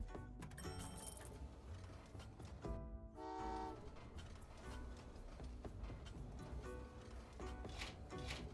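Train horn toots sound over rumbling rail noise as a freight train passes in the video game Train Valley 2, with a loud horn blast near the middle and a busy game soundscape throughout.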